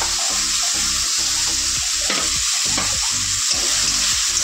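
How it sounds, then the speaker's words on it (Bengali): Close, loud frying of vegetables in a pan for a Bengali home meal, a constant oily sizzle with rhythmic spatula scrapes and stirs repeating roughly every half second, no voices. "বটবটিটা ভেজে নিয়ে তার ভেন্ডিটা ভাজবো।"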